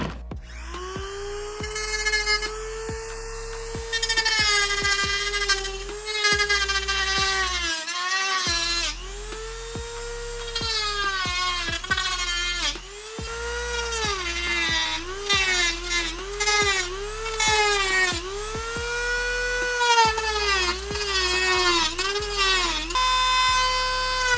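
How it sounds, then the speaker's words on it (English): A Dremel rotary tool with a cutting disc cuts through a helmet, giving a loud whining buzz that rises and falls in pitch again and again as the wheel bites and eases, with brief pauses between cuts. "We're going to use a Dremel tool with a cutting wheel, cutting disc, and we'll just cut that out"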